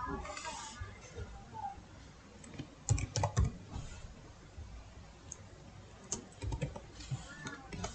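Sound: typing HTML code on a computer keyboard

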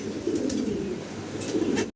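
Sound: pigeons cooing

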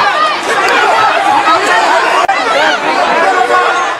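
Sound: angry crowd of protesters shouting abuse

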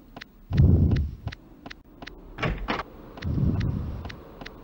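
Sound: doors opening in a video game

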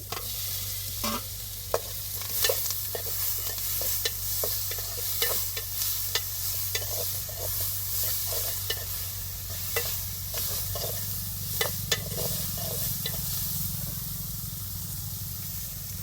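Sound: onions sautéing in a pan

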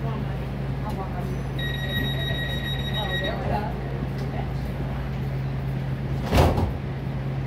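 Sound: Metro train doors closing chime

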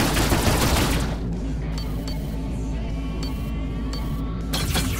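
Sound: tachyon gun firing in Rebel Galaxy video game

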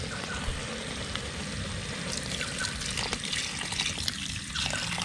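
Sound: water being poured into a large cooking container

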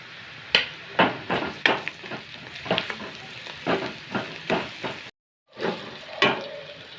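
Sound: onion sautéing in a pan

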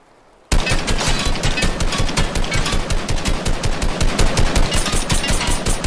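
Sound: wall shooting gunfire in a video game

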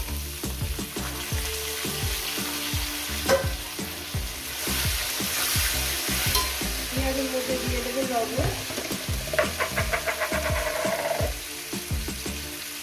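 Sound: whole spices and onions frying in oil for mutton curry

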